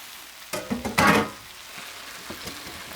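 Browned chicken pieces go back into a hot pan to reheat, with a short clatter and a burst of sizzling, then a steady soft fry with light stirring.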